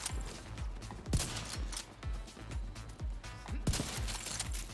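Sniper rifle shots in The Division 2 video game, a series of sharp, booming reports with decaying low tails, spaced roughly every half second to second, amid a busy combat soundscape.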